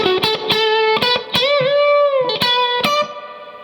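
An electric guitar with a distorted, effects-laden tone plays a phrase from a guitar solo: sharp picked notes, smooth string bends and a long singing sustain, loud and clear.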